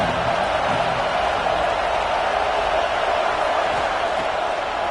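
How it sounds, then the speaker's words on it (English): A football stadium crowd roars continuously on a third-down defensive play in an RAM vs USC game, a dense, loud, unbroken wall of cheering noise. "Decibels rising as the crowd gets behind this defense on third down."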